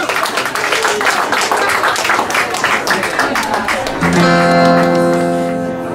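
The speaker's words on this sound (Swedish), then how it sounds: "En varm applåd!" Warm audience applause fills a stage at an open-stage performance night, dense clapping throughout before music with sustained tones takes over near the end.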